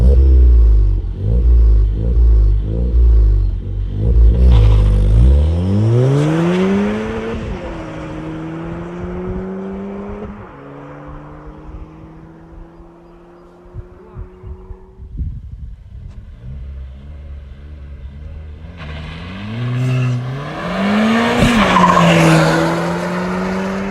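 A stage 2 REVO-tuned Ford Fiesta ST with a meth kit launches hard on a quarter mile run, tires squealing in wheelspin as the engine revs climb through first and second gear, with loud rising whines, gear shifts and a final high-rev pull.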